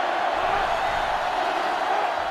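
Steady roar of a large stadium crowd cheering during a Penn State vs Georgia college football game in NCAA Football 2005 on GameCube, a dense continuous wash of noise with no breaks.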